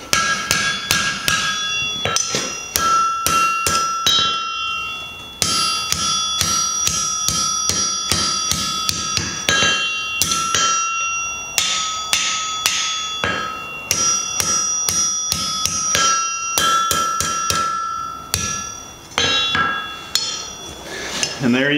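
Rapid hammer blows ring on a steel anvil horn while a small scroll is forged from half-inch round bar, loud bright clangs in steady bursts with short pauses between runs.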